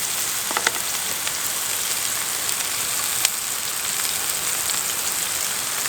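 A steak frying in vegetable oil in a pan at a camp on the Oregon coast, giving a steady close hiss with scattered small pops and crackles and no talking.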